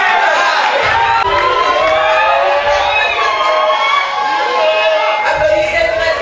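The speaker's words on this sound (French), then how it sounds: "Applaudissez très fort." Guests at a fifth wedding anniversary celebration cheering and shouting with clapping, a loud continuous crowd din with whoops rising throughout.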